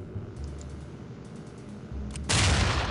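A C4 charge detonates in the tactical shooter SWAT 4, a sudden loud blast bursting in near the end after a stretch of low game ambience and faint clicking.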